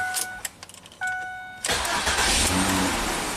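A 2006 Ford Freestyle starts on the first try after earlier clicks and small taps, then settles into a steady, loud idle close by with no voices over it.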